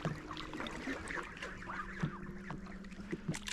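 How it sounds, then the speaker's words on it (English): Many geese on the River Thames honk and call in a scattered, overlapping chorus at a moderate distance, with water and outdoor ambience in the background. "That is an impressive amount of geese."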